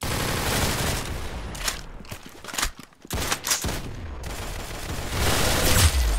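Rapid bursts of gunfire from a shooter video game, loud bursts of shots coming in volleys that drop out briefly midway before the firing resumes.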